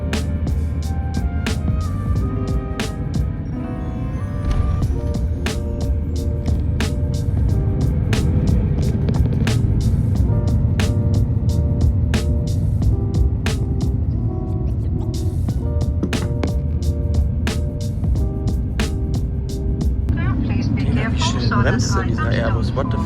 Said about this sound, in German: Bremst denn dieser Airbus?